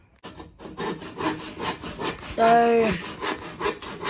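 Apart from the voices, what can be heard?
hand saw cutting wood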